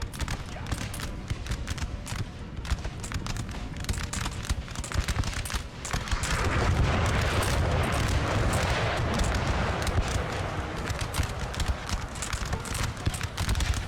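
Howitzer artillery fire in the Napoleon Total War video game, with dense battlefield noise of booming cannon and clattering hooves and troops. The din stays steady, then swells louder and fuller about halfway through.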